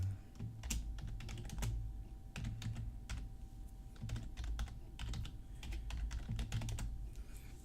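Rapid typing on a computer keyboard while a password file is opened, with steady clustered keystrokes and short pauses, close and alone.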